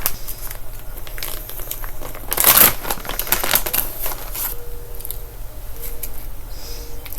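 Small scissors snipping open a plastic packet of dried cherries, close crinkling and crackling of the wrapper with a sharper burst of cutting and rustling in the middle, followed by quieter handling.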